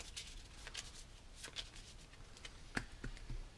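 Playing cards are shuffled during a tabletop game of Pandemic Legacy, soft repeated riffling and sliding of cards close by over steady background hiss, with a few sharper taps.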